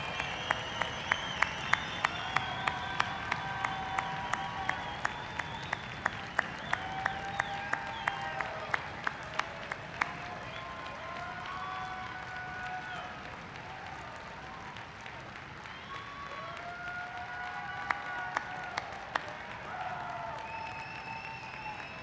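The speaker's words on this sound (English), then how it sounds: "how about our master's degree recipients all standing up for another big round of applause" Graduation commencement audience applauding master's degree recipients, a broad sustained wash of many hands clapping in a large hall, steady and loud throughout, with faint cheers and a few voices rising over it.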